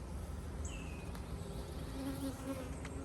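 Steady, dense buzzing of many honey bees close by at a Flow Hive during a brood inspection, a continuous droning hum with a few individual bees passing near.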